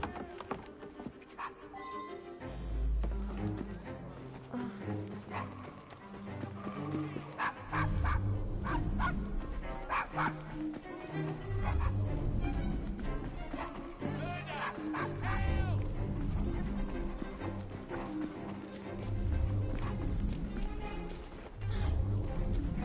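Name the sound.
dog barking, from video game Assassin's Creed Syndicate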